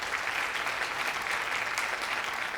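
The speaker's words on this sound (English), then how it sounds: "Give them a round of applause" An audience applauds the quiz teams at an insurance awareness competition zonal round, a steady wash of many hands clapping at moderate distance with no voices.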